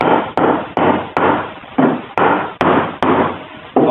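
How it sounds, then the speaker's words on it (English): Eight or nine sharp hammer taps strike a block of wood to drive a wind turbine yaw bushing in, evenly spaced close knocks, each ringing briefly before the next. "Put the wood on and just gently hit the yaw bushing in."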